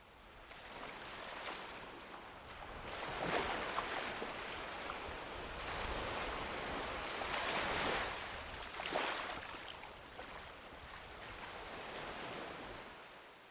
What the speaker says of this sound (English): peaceful state where the waves were quietly lapping up on shore.